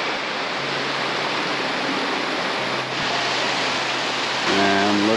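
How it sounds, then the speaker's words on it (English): Continuous rushing water from a small waterfall and flowing creek on a mountain trail near Arethusa Cirque, steady and fairly loud, with a brief low tone near the end. "we're gonna get to see a couple nice little waterfalls here. Nice little creek."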